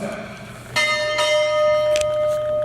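A ship's bell rings out clearly at a United States Navy retirement ceremony, a couple of bright metallic strikes with long ringing decay.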